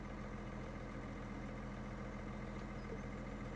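A tractor engine idles in Farming Simulator 2017, a steady low rumble that stays constant and fairly faint throughout with no talking.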